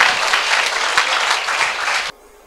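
A church congregation claps together in sustained, dense applause offered as praise to Jesus, loud and steady with a few sharper claps, stopping abruptly near the end and leaving quiet room tone.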